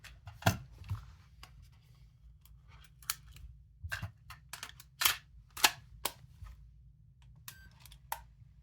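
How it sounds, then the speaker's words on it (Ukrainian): Plastic clicks and clacks up close as a cassette is handled and pushed into a Sony Walkman WM-FX822 cassette player, a series of sharp mechanical snaps with quiet gaps. "Давайте ставимо касетку, візьмемо нашу тестову касетку вже знайому"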